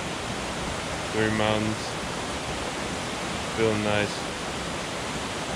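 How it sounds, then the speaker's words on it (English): A small waterfall rushes steadily in the background on a mountain ridge hike, a constant hiss of water under two brief stretches of nearby talking. "Nice little waterfall in the background."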